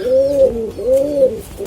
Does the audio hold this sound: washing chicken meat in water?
no